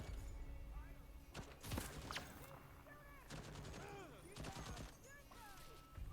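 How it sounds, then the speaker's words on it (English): Gun turret in Deathloop firing rapid bursts of gunshots, sharp cracks clustered in volleys with a heavy crash near the start, amid other game noises and faint voices. "Now the gun turret's on my side. You'd hope it would shoot that guy."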